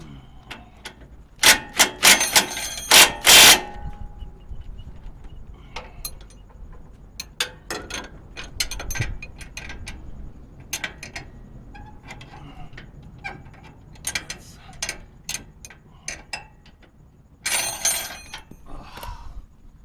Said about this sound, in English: I have a rattle gun, so I'm going to use that